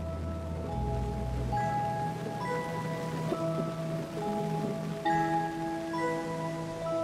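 Steady rain in the Gabon rainforest patters and hisses throughout, with soft droplet sounds and a few sustained musical tones drifting over it.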